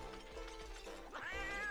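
A cat in the video game Monster Hunter Freedom gives a short rising meow near the end, over a steady bed of game music and ambience.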